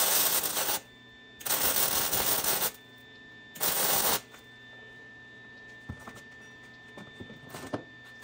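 Wire brush scrubbing down fresh welds on a Super Duty axle swap, three loud bursts of harsh bristle scraping, then quieter shop sounds with a few small knocks.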